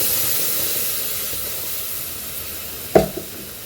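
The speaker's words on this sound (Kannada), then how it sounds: "ಇದಕ್ಕೆ ರುಬ್ಕೊಂಡಿರೋ ಟೊಮೊಟೊನ ಹಾಕೋತಾ ಇದ್ದೀನಿ" Ground tomato goes into hot oil with roasted cumin and pepper, giving a steady soft hiss that jumps to a sudden sharp sizzling burst near the end.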